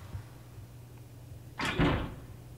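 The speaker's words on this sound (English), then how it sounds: "I hear a noise like something slamming against the door." A single heavy thud against a door in the horror game Death Mark lands after a quiet, low-humming stretch, followed by a brief rattling resonance that fades within a second.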